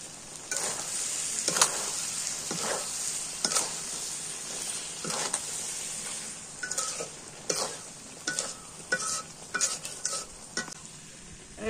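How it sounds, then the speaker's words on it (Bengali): Food sizzles and fries in a pan while being stirred with a spoon after cumin powder is added, with a steady close crackle broken by repeated scraping strokes of stirring. "জিরার গুঁড়া দিয়ে নাড়াচাড়া করলি"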